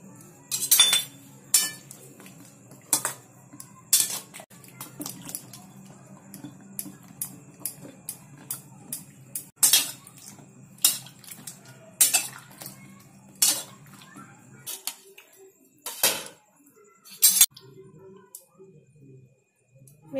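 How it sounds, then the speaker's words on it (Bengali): Mushrooms are washed in hot water in a bowl, with scattered sharp clinks and knocks of the bowl and utensils, some quick in succession, over a faint background hum and occasional soft voice. "গরম জলে এগুলো ভালো করে ধুয়ে নোংরাগুলো পরিষ্কার করে নেব"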